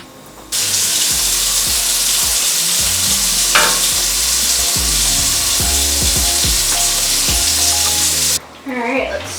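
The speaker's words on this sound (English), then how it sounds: "let's stir our pasta into our sauce" Cooked pasta stirred into a warm sauce for crab mac and cheese sizzles and squelches in the pan. Loud, busy frying with scraping stirs is framed by brief quieter moments at the start and end.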